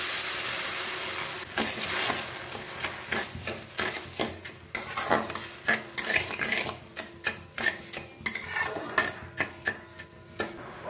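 Sugar and a little water in a karai being stirred with a utensil, a rhythmic series of scraping strokes over a soft sizzle, steady and close, with no talking.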